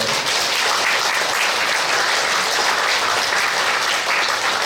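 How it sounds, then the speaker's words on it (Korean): A church congregation breaks into loud, dense applause, a continuous wash of many clapping hands that holds steady throughout, with no talk over it. "우리 격려의 박수 한번 해볼까요?"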